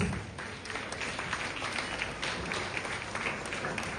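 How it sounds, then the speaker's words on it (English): An audience at a school stage event applauds, a steady wash of many hands clapping at moderate distance that runs through the whole moment, with a faint voice underneath. "Please give them big claps."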